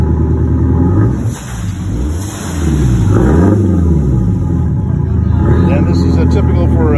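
A Detroit Diesel 8V71 engine, woken after a couple of years of sitting, rumbles loudly at close range, dipping briefly and then rising into revs, with a person talking over it.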